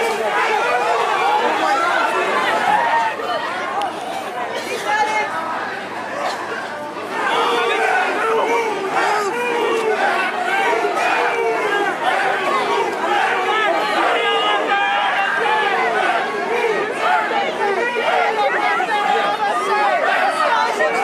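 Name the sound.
protest crowd being pushed back by police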